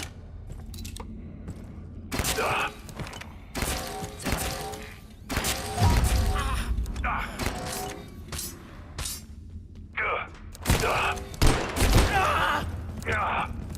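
Gunfire in the survival game Abiotic Factor comes in bursts of sharp, loud shots and impacts, scattered irregularly across the stretch, with people talking over and between them.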